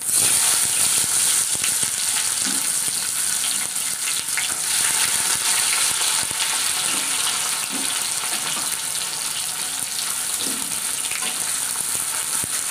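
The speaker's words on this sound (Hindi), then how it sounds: "प्याज को अच्छे से फ्राई कर लेंगे" Finely chopped onions and whole cumin seeds frying in leftover fish-frying oil in a kadai, giving a loud, steady, close sizzle that runs unbroken throughout with no voices.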